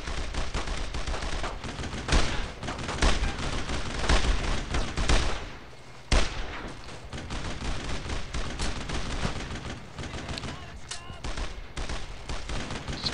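Heavy, continuous gunfire in the game Brothers in Arms: Road to Hill 30, with dense overlapping rifle and machine-gun bursts and a few louder booms, loud and close throughout. Voices are faintly present under the shooting.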